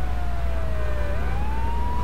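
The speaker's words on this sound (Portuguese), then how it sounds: "Deixar a sirene ligada aqui" Fire truck siren in the video game GTA 3 wails loudly and steadily, its pitch sliding down and then back up, over a low engine rumble, with no other sound on top.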